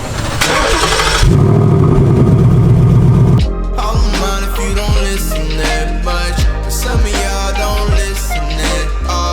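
A 2019 Ford Mustang GT PP1 with a 10R80 automatic fires up with a loud cranking burst, then settles into a deep, close V8 burble. Sharp blips of the throttle punctuate the idle, and no one speaks.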